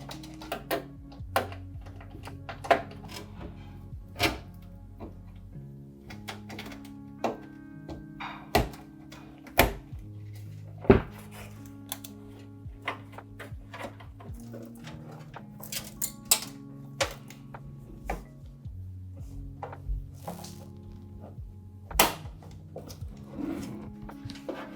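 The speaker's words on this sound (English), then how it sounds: "now we're gonna screw in the motherboard using the motherboard screws" Motherboard being screwed into a PC case for a budget gaming build, heard as a quiet, irregular series of small clicks, taps and metallic ticks from screws and a screwdriver, close up and without talk.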